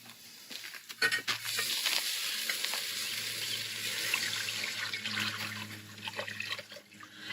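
Water splashes and runs steadily into a cooking pot being filled to cover the food, a continuous close wash of sound with small splashes and clinks throughout.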